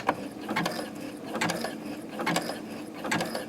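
A sewing machine sewing on a button runs in repeated mechanical bursts, a rhythmic clattering cycle about every 0.8 seconds, close and moderately loud with no voices.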